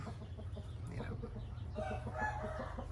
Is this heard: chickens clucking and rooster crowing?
yes